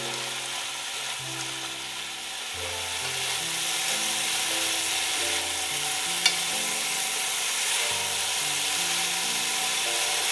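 Kimchi fried rice stir-fries on high heat in a pan, a loud, continuous crackling sizzle with steady scraping as it is tossed, plus one sharp clack midway.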